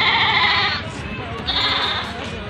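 Goats and young kids bleat close by near a jeep in hilly Arghakhachi, Nepal. Two drawn-out overlapping calls sound over faint background chatter.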